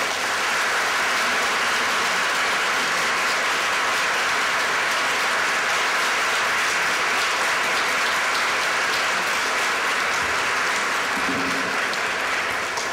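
A seated audience applauds warmly to welcome poet Louise Glück, a dense, steady clapping that fills the room loudly and evenly for the whole stretch.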